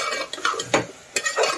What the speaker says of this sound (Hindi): मूंग का दाल ऐड करके इसको थोड़ा भूनूंगी।